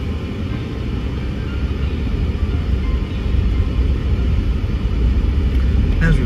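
Steady, loud low rumble of a car rolling along a bumpy road at Crooked River Ranch, with continuous road and tire noise that thickens slightly midway, heard from inside the vehicle.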